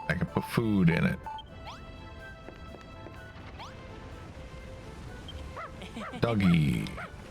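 Cartoonish dog barks from Dragon Quest Builders 2 sound in two close bursts at the start and end, with chimey game music and effects playing between them and no talking.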